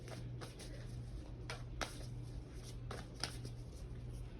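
Tarot cards shuffled by hand with repeated soft riffling bursts over a steady low hum, close and fairly quiet, no voices.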